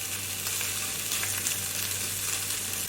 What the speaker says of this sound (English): I'm going to sear them in the pan before I mix them with my spinach